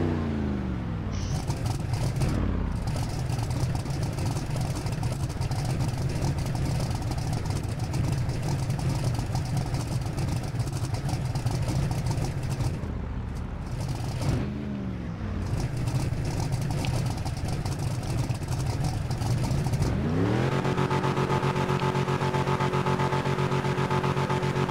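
A car engine idles and revs in a burnout roleplay game with small-tire cars, a steady droning hum broken by a few throttle blips and pitch sweeps, ending in a higher-pitched settled idle, with no one speaking.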